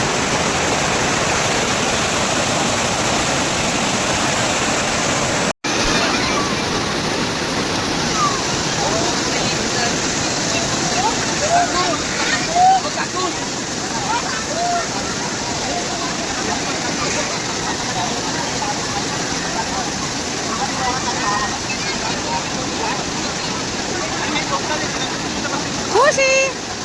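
The monsoon waterfall at Palse in Mulshi, near Pune, gives a continuous loud rushing roar of falling water throughout, with faint crowd voices mixed into the steady wash.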